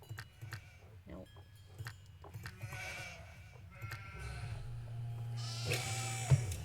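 Sheep in a haunted-castle video game bleat several times in short wavering calls, mixed with game sounds and a low background hum, fairly close and moderately loud.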